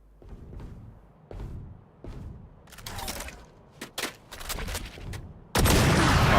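Gunfire in the tactical shooter Valorant: a scattered run of sharp shots and thuds, sparse at first then quickening into bursts, ending in a loud sustained volley of fire near the end.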